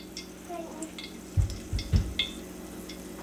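A piece of wild rabbit drops into hot deep-frying oil, giving a few short bursts of crackling and sizzling against a quiet low hum, with faint clinks nearby.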